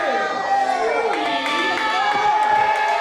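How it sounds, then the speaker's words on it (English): A crowd at a live showcase event cheers and shouts continuously, with excited voices and some high-pitched children's yells forming a dense, loud wall of sound for a few seconds. "The crowd goes crazy"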